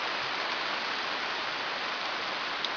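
Rain falls in a steady, soft hiss, a constant wash of drops at moderate distance with no talking and no breaks.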